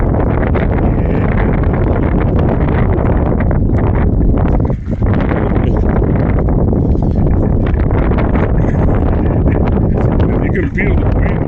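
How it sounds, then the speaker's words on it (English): Strong southeast wind at Lago Vista buffets the microphone in loud, continuous broadband roaring gusts, with only a brief dip around the middle. "You can feel the wind pretty strong."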